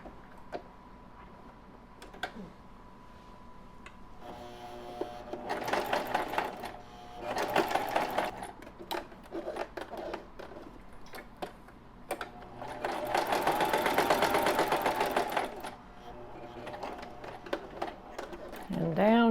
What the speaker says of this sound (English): So I put my sewing machine back to straight stitch now, and I'm going to straight stitch around the stem.